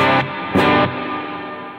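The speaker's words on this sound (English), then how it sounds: "If I go ahead and change it for like a cloud verb" An electric guitar through a cloud reverb effect plays two loud strummed chords, each cut off and leaving a long, shimmering wash of reverb tail that fades slowly.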